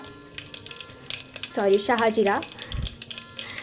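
Shahjeera (black cumin) seeds sizzling in lightly heated oil inside a pressure cooker, a soft crackle with a brief clatter of a utensil against the pot; a voice speaks briefly in the middle.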